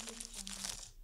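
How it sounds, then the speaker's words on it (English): Paper crumples and crinkles as a short sound effect, a soft rustling burst lasting about a second, fairly quiet, with no voices. "So here's the file that I downloaded that has the paper crumpling sound effect."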